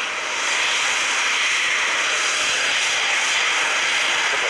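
A Eurofighter Typhoon FGR4 takes off in full afterburner at night at RAF Coningsby, producing a loud, steady, continuous roar that holds throughout with no talk.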